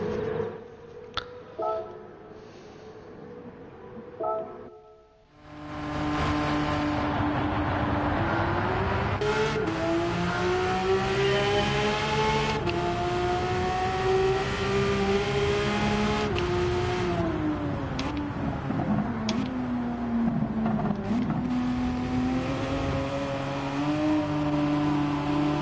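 A Porsche race car in Gran Turismo 7 accelerates hard, its engine howling up through the gears with rising pitch sweeps and brief drops at each shift, loud and continuous after a short idle and pause.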